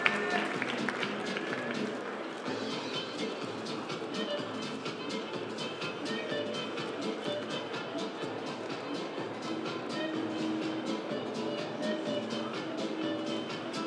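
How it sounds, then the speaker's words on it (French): Steady applause from an audience at the France 2017 Coffee in Good Spirits final, a coffee competition, clapping continuously at moderate distance, fairly quiet, with voices mixed in throughout. "Voilà les collections, on applaudit."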